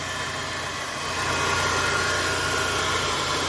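A running car engine with a worn alternator bearing gives a steady close drone with a constant whining, rough hum, and it grows slightly louder partway through.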